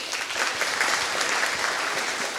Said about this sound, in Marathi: टाळ्या वाजवायच्यासाठी एकदा.